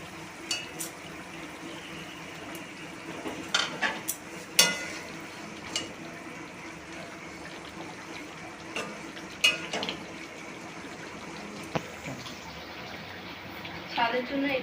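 Curry gravy bubbles in a pan for a fish curry, a soft steady simmer with scattered pops and clinks over a long stretch.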